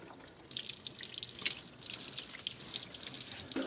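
Water dripping from the lip of a 3D printed outdoor outlet cover, rapid irregular drips and small splashes, close and fairly quiet, with nobody talking.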